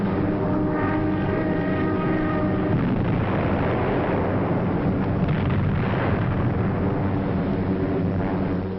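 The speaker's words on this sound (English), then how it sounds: "Approaching the French coast, the ack-ack and gunfire seemed harmless and far away." Anti-aircraft ack-ack gunfire near the French coast during the Normandy landings, a heavy, continuous rumble with booming bursts and droning engine tones, muffled and distant in an old, narrow-band recording.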